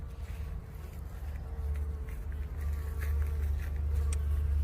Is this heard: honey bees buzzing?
yes